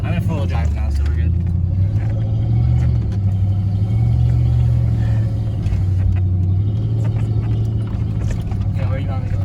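A lifted Ford F150 truck crawls off-road in four-wheel drive, its engine a steady loud low drone throughout, with voices talking over it inside the cab.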